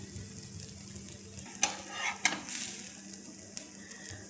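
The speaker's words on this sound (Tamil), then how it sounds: "ரவா தோசை வந்து நம்ம எப்போயுமே ஓரத்துலேருந்து தான் ஊற்ற ஸ்டார்ட் பண்ணணும்" Rava dosa batter poured onto a hot pan gives a soft, close sizzle broken by a few light scraping or stirring noises.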